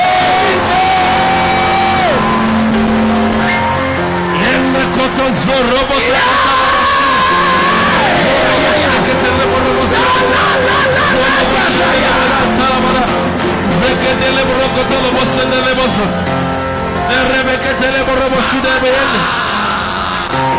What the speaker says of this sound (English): if you jump up and scream the loudest amen